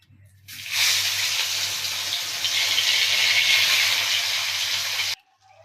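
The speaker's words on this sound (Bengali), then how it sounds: "প্রথমে আমি মাছগুলো ভাজিয়ে নেব।" Puma fish frying in a pan of hot oil, a steady loud sizzle that starts abruptly, holds evenly for several seconds and then stops sharply, with no voices over it.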